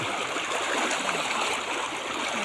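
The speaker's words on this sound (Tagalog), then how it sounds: "Malakas din yung agos ng tubig guys." A strong current in a lahar river where people are swimming, a continuous rushing, gurgling flow of water, close and steady.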